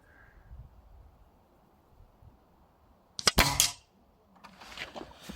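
A single sharp crack from an Air Arms Pro Sport air rifle firing, heard after a quiet stretch and followed by a short rattle of handling noise.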